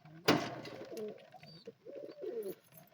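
Racer pigeons cooing in a loft with chicks and eggs nearby, a loud close burst of wing or body movement followed by soft, repeated throaty coos at moderate volume.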